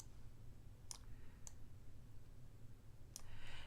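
Three short, sharp key presses on a computer keyboard, spaced apart in a quiet room with a low steady background hum.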